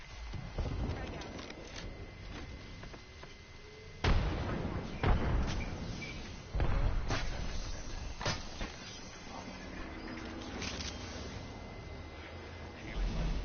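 Frag grenade blasts in an Apex Legends match: sharp broadband booms around four, five and seven seconds, standing out over continuous game noise and an ongoing player voice.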